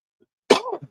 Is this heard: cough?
yes